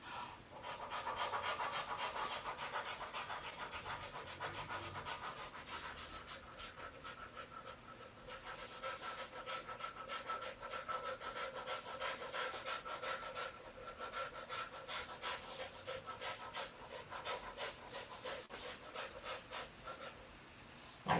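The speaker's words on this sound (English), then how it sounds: "incorporate that last breath of fire" Rapid breath-of-fire breathing through a circled mouth during a kriya meditation, a steady stream of quick, even, close-up breaths running throughout with no talking.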